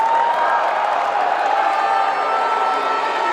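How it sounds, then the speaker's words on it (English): A basketball crowd at a grand final between Mount Gambier Pioneers and Forestville Eagles roars and yells in protest at a travel, a loud continuous wall of voices filling the arena. "Crowd yelling for travel on that one."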